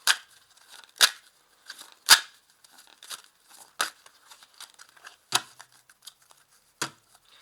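Tarot cards being cut and shuffled by hand, giving a run of sharp papery snaps and riffles at irregular intervals, close and fairly loud with no talking.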